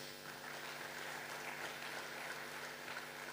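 A crowd at a launch event claps for a singer-songwriter after her performance, a steady wash of applause that is heard from a distance and is rather faint.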